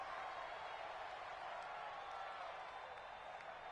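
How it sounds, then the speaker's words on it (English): Distant, faint wash of a stadium crowd clapping at a Vikings versus Bears football game, a steady diffuse applause with a broadcaster's voice mixed in. "That's why you hear that clapping on the..."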